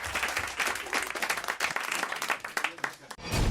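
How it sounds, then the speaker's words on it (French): A studio audience on a French radio show breaks into applause, a steady patter of many hands clapping at moderate level, briefly dipping near the end before resuming. "Si, franchement, on vous applaudit"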